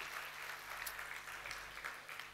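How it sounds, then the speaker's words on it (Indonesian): Applause from a church congregation at a sermon service, a faint, steady wash of many hands clapping at a distance with no talk over it. "berikan tepuk tangan buat Tuhan Yesus ya"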